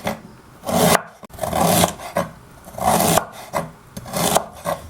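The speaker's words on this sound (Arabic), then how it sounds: "قشرت الزنجبيل، توا نجيب نقطعه" A knife slices through fresh, tender peeled ginger root in four or five steady rasping strokes, each about half a second long, close and fairly loud with no talking.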